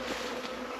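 Honey bees from a hived swarm buzz around a swarm trap outdoors, a soft steady drone nearby with no one talking.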